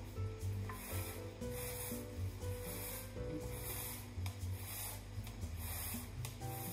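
Couscous with almonds being mixed with salted water, a steady soft rubbing and scraping of grains in a bowl, continuous and close, with faint background hum.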